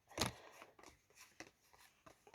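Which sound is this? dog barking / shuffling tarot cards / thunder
shuffling tarot cards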